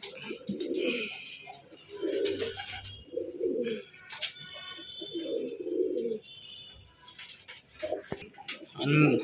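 Pigeons cooing in a loft, a crested pair among them: soft, throaty coos repeat every second or two, close by, with light chirps and faint background sounds between them.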